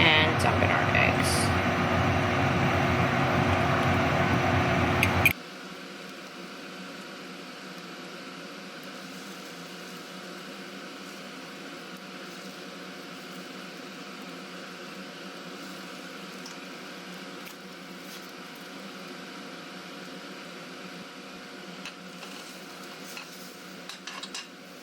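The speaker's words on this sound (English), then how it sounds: "lower the heat a little bit and dump in our eggs" Beaten eggs poured into a hot, oiled pan that is still hot after rinsing. A loud sizzling burst for about five seconds drops to a steady, quieter frying hiss that carries on alone.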